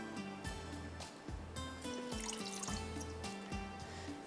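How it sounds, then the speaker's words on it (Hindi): A little water poured into a cooking pan while preparing a bread lasagna, giving soft trickling, splashing and light clinks close to the microphone, faint and without speech. "थोड़ा सा डालेंगे पानी।"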